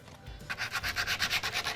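A sanding block is rubbed back and forth on a stove top cover in quick, steady strokes, giving a rhythmic, close scratchy rasp with no talking.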